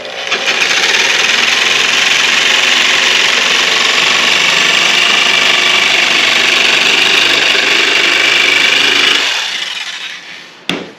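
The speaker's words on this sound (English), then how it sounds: "We're just going to cut these in half." A power saw cutting wooden charcuterie boards in half, a loud, steady whining buzz held for about nine seconds before winding down, with a brief clunk at the end.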